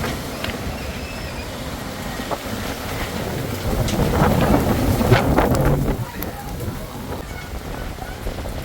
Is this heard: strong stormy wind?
yes